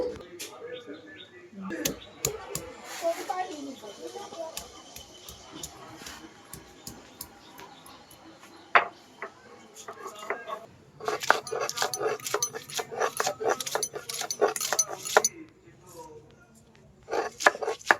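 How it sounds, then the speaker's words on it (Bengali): Ginger and garlic ground by hand on a stone slab (pata) in a home kitchen while cooking a country-chicken curry: a run of close, rhythmic scraping and knocking strokes, quieter at first and then busier, with faint household sounds around. "এবারে তো পাটায় একটু আদা রসুন বেটে নেব"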